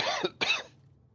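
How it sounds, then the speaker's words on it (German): Two short, harsh coughs close together, loud and near, after which a low background hum carries on alone. "Husten Sie mal ganz vorsichtig."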